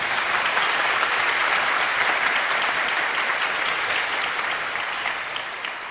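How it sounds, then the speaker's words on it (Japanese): Warm audience applause at a concert, a dense steady wash of clapping from a large crowd that holds for the whole stretch and slowly fades near the end, with no voices over it. "温かい拍手とても嬉しいです"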